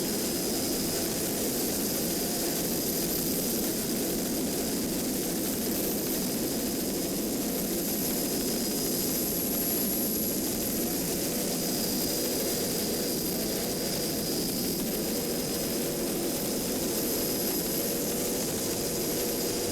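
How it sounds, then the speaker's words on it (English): Class 5 offshore racing powerboat going by during an OPA race in New Jersey, a loud continuous engine roar sustained for about twenty seconds without much change in level. "Going by the Class 5 entry of Typhoon with Glenn Helwig and Andy Schluss."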